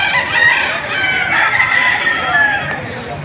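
A rooster crows loudly close by at a rooster market in Padre Garcia, Batangas, its drawn-out call filling the moment over faint background noise.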